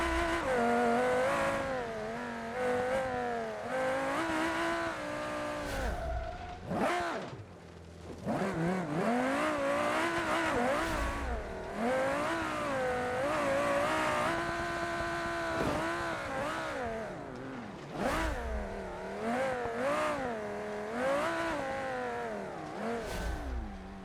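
A high-powered rally car in BeamNG v0.25 revs hard with a loud, close engine that climbs and falls through repeated gear changes, briefly dropping off and then surging again for a long stretch.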